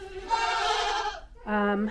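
Goats bleat inside a farm barn: a long, wavering call followed after a short gap by a second, shorter bleat, both loud and close.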